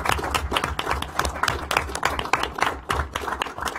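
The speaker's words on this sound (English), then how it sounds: "let's give these two a round of applause" A crowd applauding at a National Space Council meeting, with dense, continuous clapping at an even, lively level throughout.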